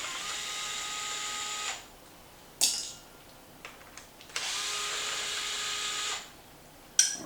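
A DeWalt cordless drill backs out 2mm retaining screws from hinge pins on a shock tower, running in two steady whirring bursts of about two seconds each, with short clicks and handling taps between and a sharp click at the end.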